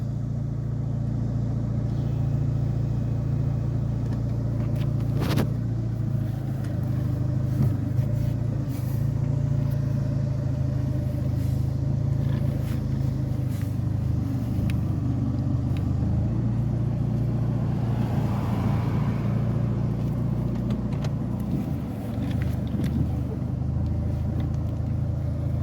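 A car engine running steadily on a dyno day, a constant low rumble at moderate level that holds nearly unchanged throughout with no clear revving and no talk.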